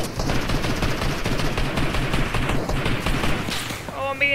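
Gunfire in the Fortnite video game: rapid, dense bursts of shots continue almost nonstop, loud and close, with a voice talking over them.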